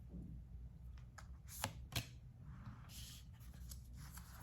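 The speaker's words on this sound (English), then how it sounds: "you heard me shuffle" A deck of cards being shuffled nearby, soft riffling and a couple of sharper snaps in a quiet room over a low steady hum.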